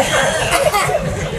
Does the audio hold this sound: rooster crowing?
no